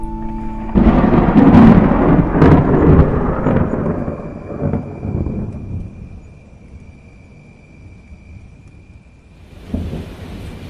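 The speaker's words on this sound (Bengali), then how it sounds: "হঠাৎ একটা বাজ পড়ার শব্দে" A loud, close thunderclap booms and rolls for several seconds, then fades into quiet rain, followed by a fainter second rumble.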